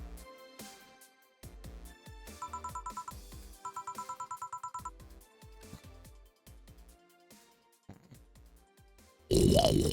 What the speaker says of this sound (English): I don't know how much of that snore came through.